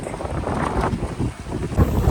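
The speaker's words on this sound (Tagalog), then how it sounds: "Malakas ang hangin." Strong wind buffets the microphone with a steady low rumble and gusty roar, loud and continuous throughout.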